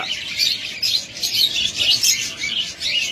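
A pair of rainbow budgerigars chirps and twitters steadily and close by, a continuous bright chatter of overlapping calls with no pauses.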